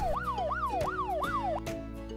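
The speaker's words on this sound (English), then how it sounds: "Sirens screaming, horns are blowing, engines rushing, none are slowing." A police cruiser siren wails in a fast repeating rise-and-fall, cycling about four times, loud and close with no voices.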